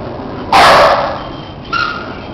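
A single loud, close bark from a Brazilian black belt dog, followed by a fainter yip or whine shortly after.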